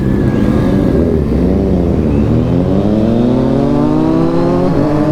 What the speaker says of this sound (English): That's an arrow exhaust on a Daytona.